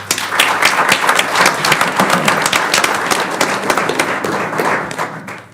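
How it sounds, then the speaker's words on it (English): A round of applause at a university board of trustees meeting, a dense wash of many hands clapping at steady loudness throughout, with scattered sharper claps standing out and a few taps toward the end as it thins. "please let's acknowledge her service with a round of applause"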